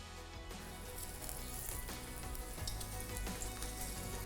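Whole spices (cloves, black pepper, fenugreek, black and green cardamom, dried red chillies) fry in hot oil with a soft, steady crackling hiss like light rain, continuous and fairly quiet throughout.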